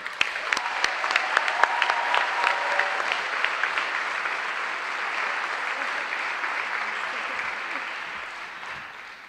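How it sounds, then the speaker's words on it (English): Audience applause at a 2015 senior pinning ceremony welcomes the keynote speaker, a dense, sustained clapping from a large crowd that swells early, holds steady and slowly fades toward the end. "Please give a nice round of applause for our keynote speaker, Mrs. Bonnie Horner."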